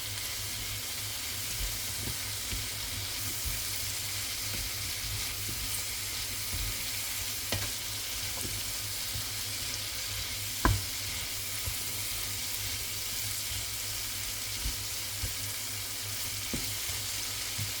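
One large capsicum frying in a pot for one-pot chicken and rice, giving a steady, even sizzle throughout with a few soft clicks and stirring knocks, close by and with no talking.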